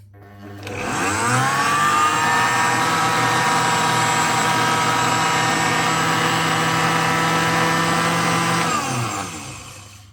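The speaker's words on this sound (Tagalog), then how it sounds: "Purong prutas po ito. Walang halo. Mag-smoothie po tayo mga lalabs." A blender whirs up a pure fruit smoothie with no additives, its motor spinning up sharply, holding a loud, steady whine for about eight seconds, then winding down to a stop.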